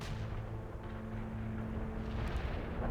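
Artillery strike in the strategy game World in Conflict, a continuous heavy rumble of distant shelling and booms rolling without pause across the whole stretch, loud and dense in the low end.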